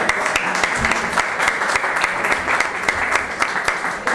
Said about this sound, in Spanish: Un aplaudiment per ell.